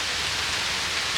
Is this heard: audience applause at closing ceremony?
no